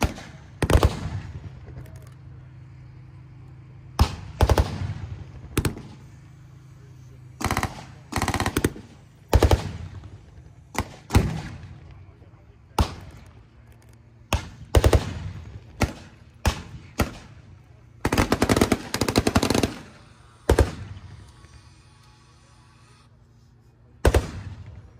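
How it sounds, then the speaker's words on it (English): A DShK heavy machine gun fires on a T-54 tank during a live museum battle show: loud, booming bursts and single shots echo across an open field, separated by quieter gaps, with faint voices in the background. "Turn fire from the Dishka on the T-54"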